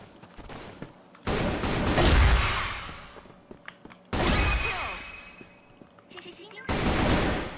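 Repeated gunfire in the shooter CrossFire during a search-and-destroy match, with loud bursts of shots separated by quieter gaps, crisp cracks with booming tails, and players talking in Chinese through the action.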